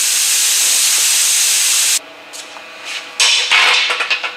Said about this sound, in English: Alright, let's get a pry bar. Let's lift that off of there and see what's inside our muffler